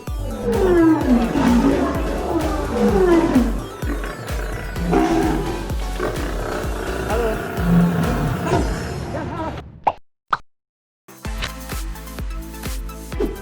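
Lions roar and growl loudly amid audience noise and music at a circus, continuing for several seconds before cutting to brief silence and a different scene.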